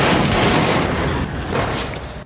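Loud pistol gunshots in a gritty Peaky Blinders gangster scene, a rapid cluster of sharp cracks blurring into a dense burst of fire that cuts off abruptly, with no voices.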